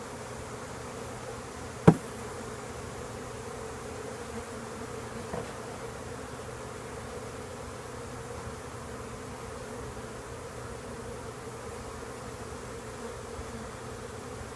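Honey bees drone steadily around an open beehive during a frame transfer, a faint, continuous low buzz with a single sharp knock early on.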